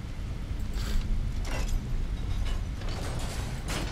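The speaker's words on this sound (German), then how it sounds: "Tür, geh auf." A door mechanism in Skyrim grinds open with several creaking, ratcheting bursts of gears and sliding parts over a low rumbling background, close and fairly loud.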